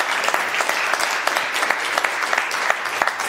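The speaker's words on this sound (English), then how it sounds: "a round of applause for Dr." Conference audience applauds a speaker on green cooperation between China and the EU, steady clapping with distinct individual claps popping out over a close, even wash.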